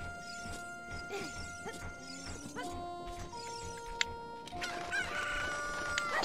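Cucco chickens in the video game Ocarina of Time, in Kakariko Village, cluck and crow repeatedly in overlapping bursts, fairly loud and close, with a sharp clatter near the end.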